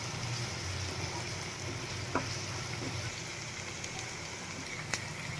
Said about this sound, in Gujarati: તો આપણે આ ડુંગળીની પેસ્ટને એકદમ સરસ પાંચથી છ મિનિટ માટે સાંતળી લેશું